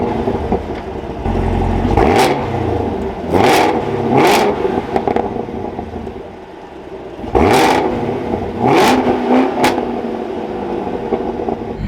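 A 2023 Chevrolet Camaro ZL1 fires up and settles into a rough idle, then throttle blips rise and fall in sharp repeated revs, loud and close with a rumbling undertone.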